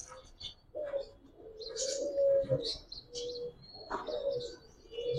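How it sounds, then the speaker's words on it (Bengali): A female grizzle pigeon coos nearby in a few drawn-out low calls, with small chirps and light rustling between. "এটা একটা মাদি কবুতর"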